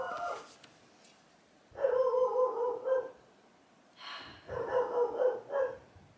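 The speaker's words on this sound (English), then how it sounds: "She can't not bark at the mailman." A dog barks in two bursts of several sharp, whiny barks, fairly close, separated by a short quiet pause, with no talking.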